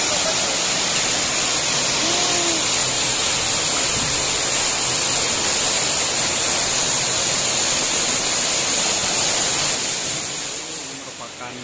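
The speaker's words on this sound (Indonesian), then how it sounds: "Ini merupakan sisi-sisi dari air terjun Cepung" Cepung waterfall pours in a dense, steady roaring hiss, loud and close, with faint chirps or voices flickering beneath before the roar eases slightly near the end.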